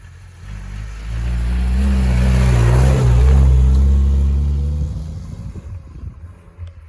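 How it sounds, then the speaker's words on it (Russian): A car engine revs hard during a timed off-road track race on the grounds of a former coal mine, the growl swelling to a loud, close roar mid-clip and then fading as the vehicle moves away. "На своих машинах они на время преодолевали трассу по внедорожью."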